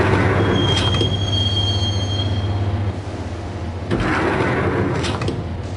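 A train ride in a PS4 video game, with loud, steady rolling rumble and a high, sustained wheel squeal, then a brief drop and a return of clattering noise; no voices.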